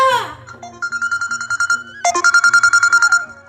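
An electronic phone ringtone plays a repeating melodic pattern of pulsed beeps, steady and fairly loud, with faint background noise.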